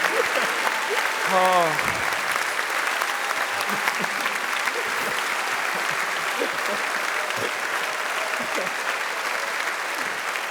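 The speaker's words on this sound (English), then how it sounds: "Round of applause" An audience at a PAX West 2017 convention panel marking The Witcher's 10th anniversary applauds in a dense, sustained wash of clapping lasting the whole stretch, with a brief voiced exclamation near the start.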